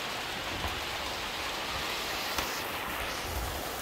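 Steady rain falls in a highland setting, a soft continuous hiss of drops on surfaces holding an even, moderate level for the whole stretch, with no voices over it.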